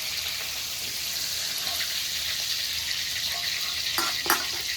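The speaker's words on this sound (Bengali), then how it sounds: "উনি পুরো চিংড়ি মাছটা ভেজে নিক" Whole shrimp shallow-frying lightly in hot oil in a pan for a malai curry, a steady close sizzle throughout with a couple of faint clinks near the end.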